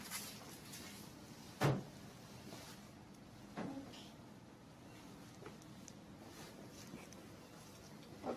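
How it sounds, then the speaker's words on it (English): A filter handpiece locking into a vertical IPL SHR Elight machine gives a single sharp clunk, followed a couple of seconds later by a softer knock, in a quiet room. "when you hear the clunk, that means the handpiece has been installed well"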